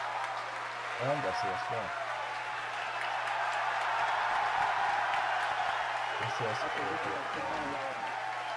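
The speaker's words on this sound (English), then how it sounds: "As you can hear from the cheering here at SpaceX headquarters" Crowd cheering and applause at SpaceX headquarters during the Falcon 9 launch of Crew Dragon Demo 1 forms a steady distant wash, while an announcer speaks over it over a low hum.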